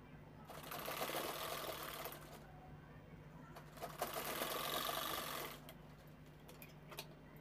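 Sewing machine stitching the side seams of a handbag in two sustained close runs of rapid rhythmic whirring, with a quiet pause and light clicks between them.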